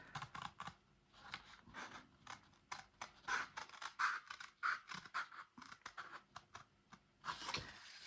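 Scissors cut out a hand-drawn paper design, producing a quick run of close, crisp snips and rustling paper at a quiet level, with no talking.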